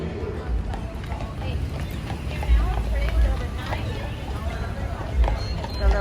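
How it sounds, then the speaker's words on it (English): Horse hooves clip-clop in irregular thuds on a city street, blended with murmuring voices and traffic noise. "The little horsey."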